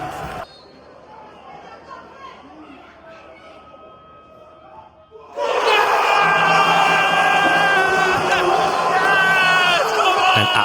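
Football crowd in Malta erupting as a penalty is awarded: quiet murmuring, then a sudden loud roar of cheering, whoops and shouts that holds strong to the end.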